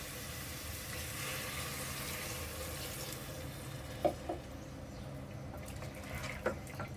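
Water poured into chicken bhuna in a pressure cooker, a steady splashing pour that tapers off into quieter bubbling and a few small clinks and drips.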